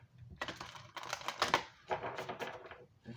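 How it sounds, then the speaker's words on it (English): A stiff new oracle card deck being side shuffled by hand, rapid clattering card snaps in several quick bursts with brief gaps, close and crisp, no voices over it. "Doing the side shuffle right now."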